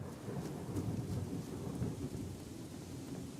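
Steady rain with rolling thunder in the Call of the Golden Valley video game, a dense continuous wash of downpour with low rumbling swells, loud and constant throughout with no voices.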